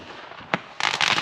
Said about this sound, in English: people are setting off fireworks right behind the van